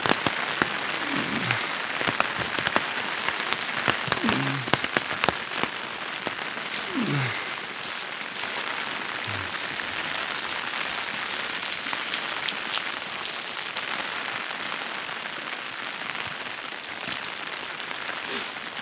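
Steady rain falls on a village in Çüngüş, Diyarbakır, a dense continuous patter on surfaces throughout with a few sharper drips standing out, close and even.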